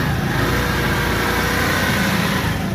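A Motor Star 150i motorcycle engine runs after a centerpost alignment repair, a steady close idle with a dense, even mechanical drone lasting the whole stretch, no talking over it.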